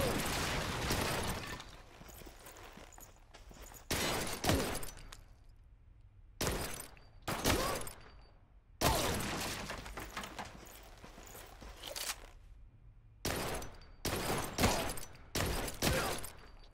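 Gunfire in the shooter Blue Estate arrives as loud, sharp bursts of shots in irregular clusters, separated by quieter gaps holding softer game sound.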